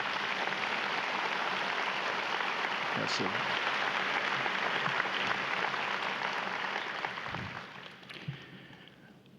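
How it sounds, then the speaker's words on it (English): Graduation audience applauding in a hall, steady dense clapping throughout that gradually thins and fades toward the end, with a brief spoken remark near the close. "Please join me in applauding the accomplished work of these scholars."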